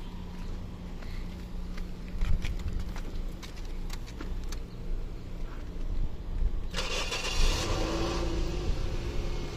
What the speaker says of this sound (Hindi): गाड़ी स्टार्ट कर दी है।